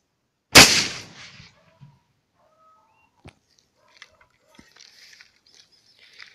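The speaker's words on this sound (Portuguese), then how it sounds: "Vou estar atirando lá na coluna. Com chumbo 3T," A single loud gunshot fires five pellets of 3T lead shot at a column, with a sharp blast and short decay, followed by faint scattered small knocks and clicks.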